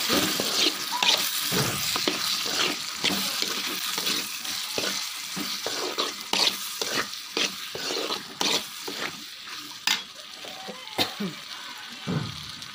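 Cucumber sabji bubbling and frying in oil in a pan, a close steady sizzle broken by repeated stirring scrapes and clicks, with a voice talking faintly in the background.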